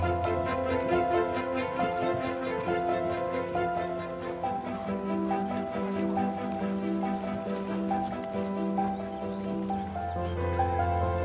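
A horse tangled in its rope in Chile's Atacama desert neighs and whinnies repeatedly, loud and close, with hoof clatter over a continuous backdrop.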